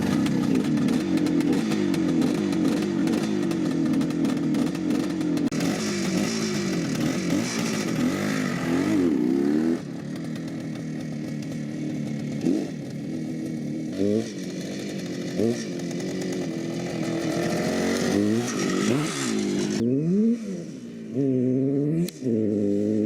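A restored barn-find Suzuki T500 Titan two-stroke motorcycle on its first ride, engine buzzing loud and close with repeated revving and rising, falling pitch through gear changes.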